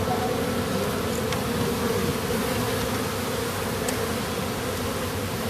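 Honeybees buzz around an open hive in a steady, dense drone close by, with occasional faint clicks over the continuous hum.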